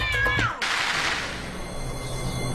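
A cat gives one loud, close meow with a falling pitch, followed by a quieter background hiss.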